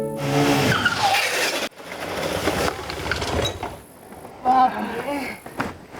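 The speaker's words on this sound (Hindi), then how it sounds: "इतनी तेज बाइक चलाते हैं का?" Motorbike ridden fast with skidding tires in a Hindi crime drama, engine whine and brief tire squeals mixed under people talking.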